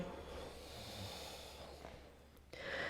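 Steady, hissing Ujjayi breath through a toned throat while holding the downward facing dog yoga pose, close and soft, with a sharper drawn breath near the end.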